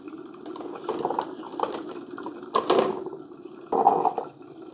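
Hot water sputtering and gurgling from the brew head of a Black + Decker 5-Cup Mini Brew Switch coffee maker, in irregular close bursts with a couple of louder spurts.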